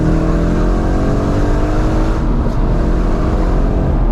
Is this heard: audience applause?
no